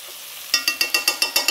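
Chicken and cassava curry is stirred in a pot with crushed spices, each stroke of the spoon giving a quick rhythmic scrape and sizzle, about eight strokes in quick succession after a brief quiet start.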